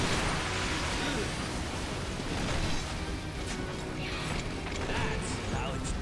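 Grinder trap in the game Orcs Must Die running amid dense, continuous mechanical clatter and crunching, steady and loud throughout with game combat noise layered in.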